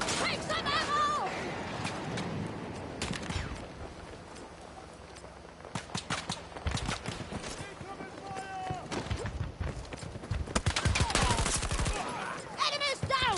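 Gunfire in Battlefield 2042: rapid automatic bursts and single shots crack at varying distances, with footsteps and shouted voices mixed in, growing denser toward the end.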